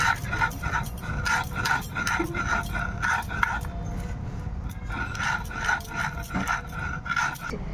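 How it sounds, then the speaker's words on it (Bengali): Sugar ground on a stone grinding slab (shil) for a homemade Christmas cake, a steady rhythmic scraping and rubbing with repeated strokes, close and fairly loud throughout with no speech. "আমি চিনিটা ভালো করে শিলে গুঁড়ো করে নেবো।"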